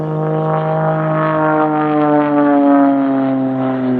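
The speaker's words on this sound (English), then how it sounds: "It's a fantastic aeroplane for these type of aerobatics." An Extra 330SC aerobatic aeroplane performs a flying display at Sywell Airshow, its propeller engine droning loudly and steadily with strong harmonic tones that slowly shift in pitch as it maneuvers overhead.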